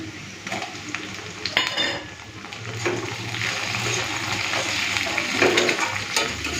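Onion, ginger-garlic paste and tomato fry for a chicken curry, a steady close sizzle running throughout with occasional stirring clinks and scrapes of a spoon in the pot.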